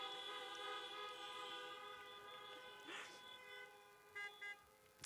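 Car horns honk at a drive-in campaign rally in Iowa, a sustained layered blare of several horns over crowd noise, followed by a couple of short separate toots near the end.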